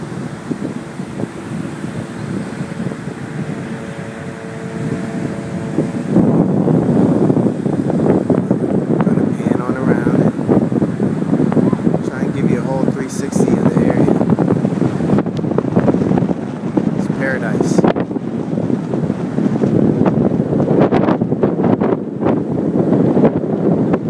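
Ocean surf rolls in steadily at Laie Beach with strong wind buffeting the microphone, a continuous loud roar with surging wave crashes.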